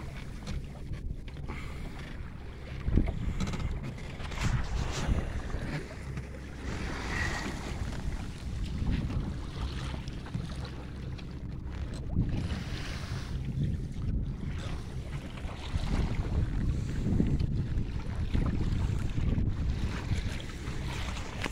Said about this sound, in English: Got wind and waves.